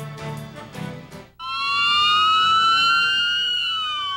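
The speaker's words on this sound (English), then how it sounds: "The sound of sirens signaled the start of the 13th annual Cub Scout Pushcart Derby." Emergency sirens mark the start of the 13th annual Cub Scout pushcart derby in Garden Grove. A loud, sustained wail cuts in suddenly after a brief murmur of background noise, then holds steady with gently sweeping tones.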